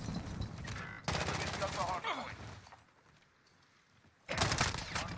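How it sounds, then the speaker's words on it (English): Rapid automatic gunfire from a no-recoil UMP submachine gun in Call of Duty Modern Warfare, loud dense bursts at the start and end with a quieter gap in between, mixed with game effects. "Teammate shooting me in the back."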